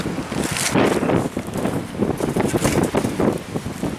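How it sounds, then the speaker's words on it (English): Strong, steady wind roars and buffets the microphone continuously, with gusty surges throughout and no voices. "Because it's so windy, let me move this bike over here."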